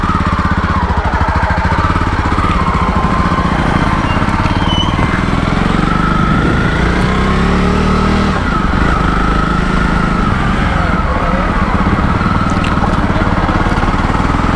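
A Jawa Perak motorcycle riding along a road, its engine a loud, steady, close drone with a continuous thrum and light wind rush throughout, no talking.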